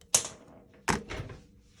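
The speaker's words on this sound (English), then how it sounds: "I think I want to cut it." Scissors cut fabric for the inside cover of a handmade journal: two crisp, close snips about three-quarters of a second apart, the second followed by a brief rustle.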